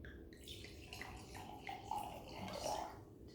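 Wine trickles and gurgles from a slim bottle into a glass, a soft, fluid pour lasting a few seconds with no one talking.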